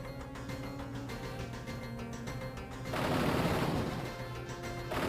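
Gunfire from gun-toting minions in the Kingpin's abode in The Punisher video game, a rapid rattling burst of shots rising over a droning background, moderately loud and alone.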